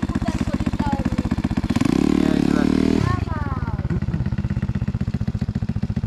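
A small Kawasaki KX 85 dirt bike engine idles in rapid pulses, then revs hard for about a second before dropping back to a choppy idle.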